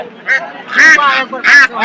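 Loud, close domestic ducks at a market in Haluaghat quack and honk in repeated harsh bursts, several calls overlapping in quick succession.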